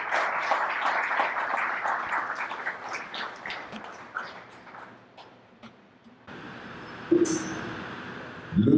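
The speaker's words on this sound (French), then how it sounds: "Sous vos applaudissements" Audience applause at an award ceremony in a hall, a dense burst of clapping that thins out over several seconds, followed by a quieter stretch with faint clinks and background noise.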